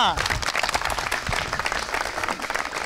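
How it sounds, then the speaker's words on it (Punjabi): Enthusiastic applause from a crowd at a village gathering in Faridkot, dense continuous clapping close and loud throughout, with voices mixed in. "ਇੱਕ ਵਾਰੀ ਪਿੰਡ ਦੇ ਲਈ ਖੁੱਲ ਕੇ ਮਾਰੋ ਜੀ ਤਾੜੀਆਂ"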